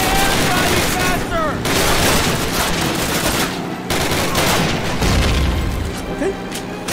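Gunfire in the video game Call of Duty crackles in dense, loud bursts and booms almost without pause, with a voice talking over the shooting in places.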